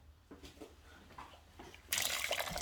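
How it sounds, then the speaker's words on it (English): Water poured from a kettle over star anise and spices in a pot, a few soft clinks and movements followed by a sudden, steady hissing splash of pouring liquid. "I'm going to pour some water over it."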